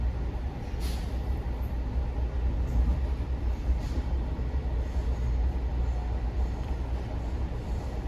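A New Jersey Transit commuter train rolling along the Raritan Valley Line on the old CNJ route, heard from on board as a steady, even rumble with faint rail clatter and brief hissing bursts, no talk.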